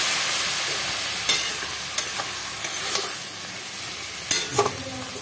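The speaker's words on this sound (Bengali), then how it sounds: "এবার মোচার সাথে এটাকে ভালো করে নেড়ে নেড়ে মিশিয়ে নিচ্ছি।" Banana flower and fried prawns being stirred in a hot pan, a continuous close sizzle with a few distinct scrapes and clinks of the spoon against the pan, and no voices.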